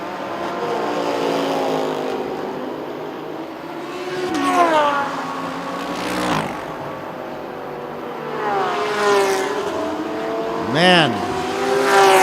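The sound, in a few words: race car leaving the pit lane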